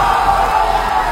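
Dense, loud crowd noise of people cheering and shouting encouragement at a weightlifter, a continuous roar with no distinct pauses over a brief moment.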